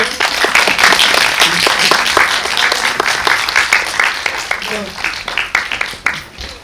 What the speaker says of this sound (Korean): 박수 치고 끝낼게요